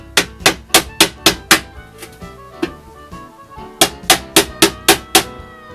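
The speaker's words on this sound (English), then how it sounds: "we're going to tap down the high spot, and the impact on the anvil will bring up the lip slightly." Two quick runs of sharp, evenly spaced nylon hammer taps on metal over an anvil, about six each, separated by a short pause with a few softer knocks.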